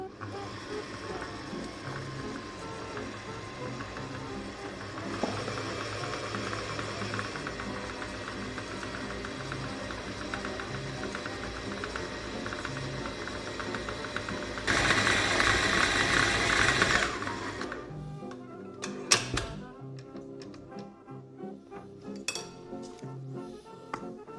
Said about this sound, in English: We start mixing and gradually add the orange and lemon juice.